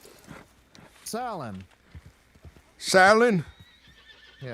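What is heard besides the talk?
horse neighing and hooves clip-clopping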